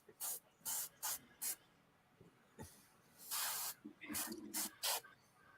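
Airbrush cleaner shot straight out of the bottle gives short, sharp hissing sprays, several quick bursts in a row and then a couple of longer ones, close and fairly quiet, with people talking around them.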